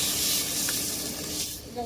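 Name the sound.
water hissing in hot frying pan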